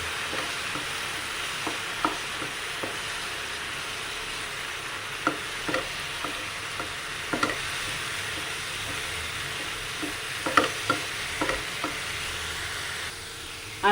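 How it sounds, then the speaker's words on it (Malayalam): Grated coconut filling is mixed with jaggery syrup in a hot pan, a constant low sizzle with scattered light scraping and tapping from the stirring utensil throughout. "ഇനി അത് നല്ലോണം മിക്സ് ചെയ്ത് കൊടുക്കാം."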